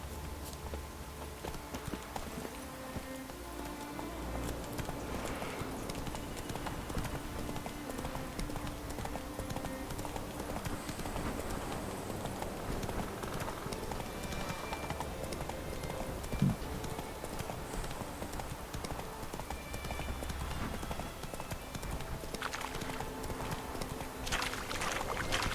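Hooves of the horse Roach clopping along a path in The Witcher III video game, a soft, rhythmic drum of footfalls that continues steadily at low volume beneath quiet ambient game sounds, with no talking.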